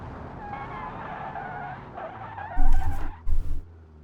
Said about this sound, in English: Powerful enough to just a little bit spin wheel